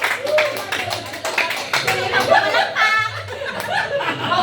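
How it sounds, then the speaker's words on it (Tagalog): Patrick claps in a lively crowd, the claps mixed with chuckles, laughter and overlapping chatter nearby. "Si Patrick, pumalakpak."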